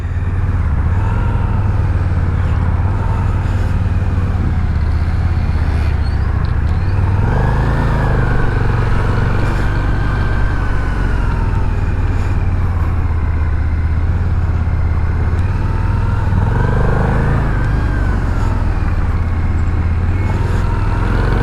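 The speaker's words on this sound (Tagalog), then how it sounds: "Medyo traffic." Road traffic heard from a motorcycle on a short ride around Ibaan, Batangas: a steady engine drone with passing vehicles swelling and fading around it, continuous and fairly loud, with no one talking.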